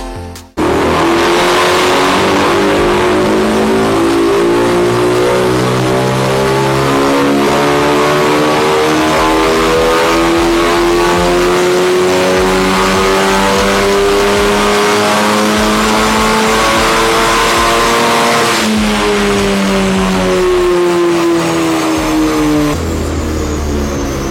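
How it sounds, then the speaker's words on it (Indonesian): A custom-tuned Honda Civic Type R roars on a dyno, with aggressive intake and exhaust noise as the engine revs steadily upward in one long, loud, continuous pull before briefly dipping and climbing again. "tadi kita gas, suaranya kalian bisa denger ya, gahar banget sekarang dari intake-nya, knalpotnya sekarang udah keluar nih karakter Civic Type R-nya"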